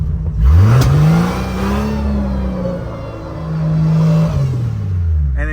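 Jeep Grand Cherokee ZJ with a locked differential and a damaged locker, engine revving hard after the clutch drops as one wheel spins alone; a loud, close engine roar rises, dips and climbs again over several seconds.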